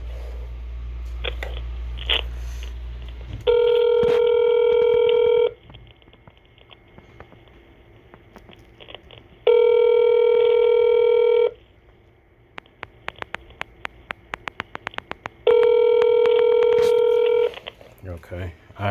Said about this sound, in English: Alright, it's dialing out.